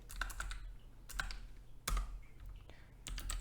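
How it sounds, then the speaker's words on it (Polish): Computer keyboard typing while coding a Java lesson: quick clusters of crisp key clicks, including a shortcut press, with small pauses between bursts, close and alone. "Dałem teraz skrót klawiaturowy Ctrl D"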